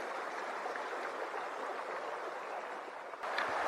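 River water flowing steadily beside a sandstone cliff, a continuous broad rushing wash close by with no talk, slightly louder and brighter in the final half second.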